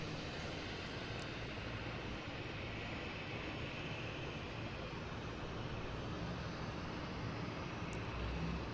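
A Delta airliner arriving from Cleveland at Boston Logan International Airport produces a steady, broad jet roar that holds evenly throughout and swells slightly near the end.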